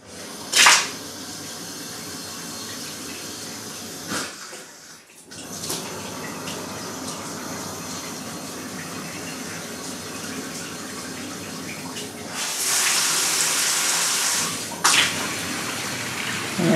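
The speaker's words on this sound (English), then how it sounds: "Let's see if the water turns on first." Cold water gushes from the faucet of a Woodbridge B-0034 / BTS1611 freestanding whirlpool air tub, a steady close rushing flow that swells into a bright, louder splash near the end, with a few knocks and no talk.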